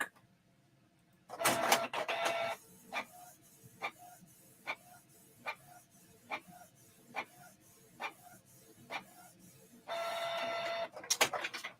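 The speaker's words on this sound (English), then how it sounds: "Print nozzle check." A Canon Pixma printer runs a nozzle check print: loud mechanical bursts of carriage movement at the start and near the end, with a steady series of evenly spaced clicks and ticks from the print head in between.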